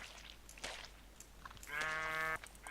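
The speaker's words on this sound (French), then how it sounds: "Ah bah c'est des moutons." A sheep in the Minecraft Blightfall modpack gives one clear, sustained bleat, loud and close, after a few soft footstep crunches in quiet surroundings.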